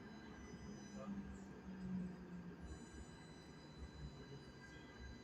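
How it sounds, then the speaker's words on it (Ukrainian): A Stadtbahn tram in Cologne rumbles past with a steady low rolling drone and faint wheel squeal, moderately distant, someone speaking over it at moments. "це трамвай, но він."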